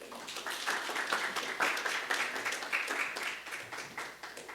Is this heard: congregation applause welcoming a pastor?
yes